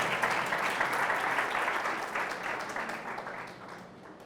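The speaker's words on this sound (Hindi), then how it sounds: "क्यों ना प्रभु के लिए ताली बजाए।" A church congregation claps for the Lord at a Hindi worship service: dense, steady applause from many hands, loud at first and gradually fading over about four seconds, with no voices.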